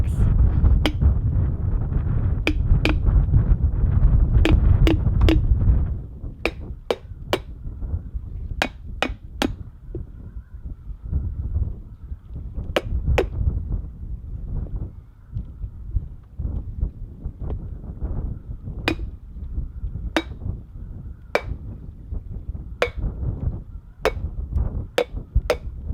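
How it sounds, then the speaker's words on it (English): The flat side of a knife whacks a coconut outdoors with many sharp, loud cracks at irregular intervals, close up over wind noise and a low rumble that is heavier at the start. "I'm going to use the flat side of the knife to give the coconut many good whacks."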